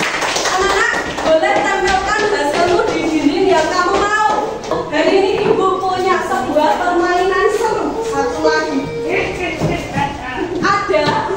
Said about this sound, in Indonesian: Kita beri tepuk hebat untuk kelompok tas.